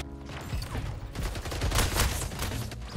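Dense rapid gunfire from a portal shooter video game, a continuous barrage of overlapping shots and impacts with a steady loud rumble throughout.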